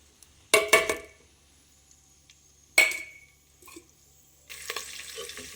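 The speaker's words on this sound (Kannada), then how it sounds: "ನೋಡಿ, ಒಗ್ಗರಣೆ ಎಲ್ಲ ಎಣ್ಣೆಯಲ್ಲಿ ಬಾಡ್ತಾಯಿದೆ." Tempering spices dropped into hot oil in a clay pot for drumstick sambar, giving two short sharp sizzling bursts near the start and another midway, then a steady softer crackle toward the end, with no talk.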